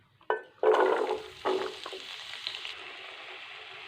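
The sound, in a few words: cubed potatoes frying in melted ghee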